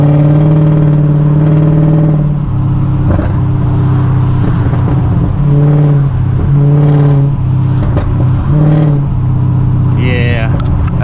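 A Mercedes CLK500 V8 rumbles and revs through DynoMax Race Bullet mufflers, a loud deep exhaust drone that rises and falls in repeated blips near 2,000 RPM, with a voice speaking briefly near the end.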